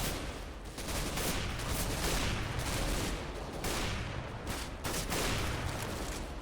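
Rapid bursts of Counter-Strike: Global Offensive gunfire crackle continuously, with repeated shots blending into a dense, noisy barrage over several seconds.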